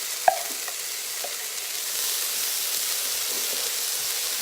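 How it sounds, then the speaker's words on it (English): Green onion and celery stirred in a slow cooker, a soft steady hiss and simmer with one brief clink of the spoon near the start, alone and without talk. "I'm also taking my celery. And give it a stir down in there."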